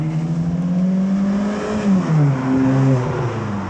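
Steady road traffic on a dual carriageway, a continuous engine hum and tyre roar with pitch shifting as vehicles pass, fairly close and loud throughout.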